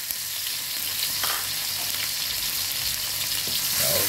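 Garlic fries in hot cooking oil for a crab dish, a dense, even sizzle close by that runs steadily with faint stirring scrapes and no talking.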